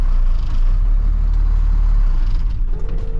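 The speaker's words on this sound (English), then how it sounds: "Truck died." A truck engine, in first gear with the park brake on, rumbles loudly and then cuts out near the end. A brief mechanical tone follows and no one speaks.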